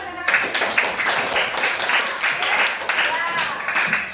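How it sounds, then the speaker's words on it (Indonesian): A classroom of students applauds a classmate after a presentation: a steady, dense patter of many hands clapping together, nearby and sustained for several seconds, with some voices mixed in. "Mereka jadi tepuk tangan dulu untuk teman kita."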